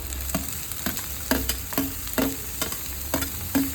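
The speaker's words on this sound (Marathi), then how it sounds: "आता ह्याच्यामध्ये आपण आधी लसूण टाकूया, त्याला फोडणी द्यायची नाही आपल्याला, आणि कांदा" Okra sautés with garlic and onion in a pan without tempering, a steady sizzle broken by regular scraping strokes of a spatula, close and moderately loud.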